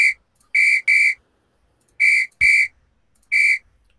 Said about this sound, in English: When you press splat four, makes another ref whistle sound